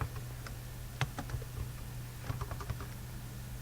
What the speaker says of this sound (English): Pardon my bad typing.